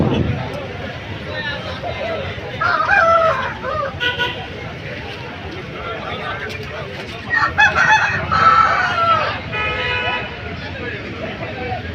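A Kakiteka rooster, about 2.5 kg, crows at a busy weekly livestock market in Rayachoti, Kadapa district, its calls rising above constant crowd chatter, clucking fowl and an occasional vehicle horn.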